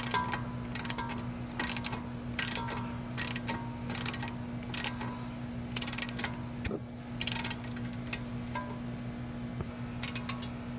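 A nut on the driver's side CV axle of a Chevy Cruze is tightened with a wrench, giving close, irregular bursts of metallic clicking over a steady low hum.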